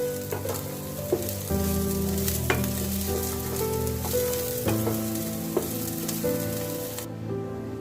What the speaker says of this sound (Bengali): সয়াবিনগুলো লাল লাল করে ভেজে নিব